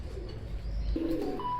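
Teddy pigeons, a fancy breed kept for sale, give a few soft low coos close by, with a brief higher call near the end.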